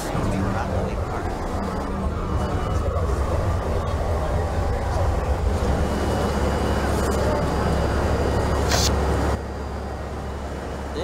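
A Brooklyn-bound NYC subway A train running in Trainz Simulator 2012, a loud steady rumble and rattle of the moving train with a low drone, under a spoken announcement, easing off near the end.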